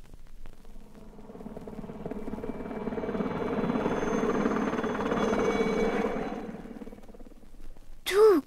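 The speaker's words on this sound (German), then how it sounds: "Das ist Knecht Ruprechts Flugzeug." A whirring airplane sound effect for a 1975 German radio play swells gradually, peaks and then fades away, followed by a brief sharp squeak at the end, with no voices over it.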